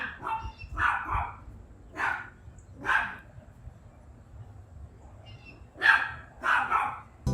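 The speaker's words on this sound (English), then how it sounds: "these dogs are barking their ass off right now." Dogs barking outdoors in bursts, several sharp barks in quick clusters with short pauses between, fairly close and loud, over a low background rumble.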